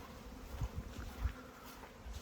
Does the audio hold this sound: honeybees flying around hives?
yes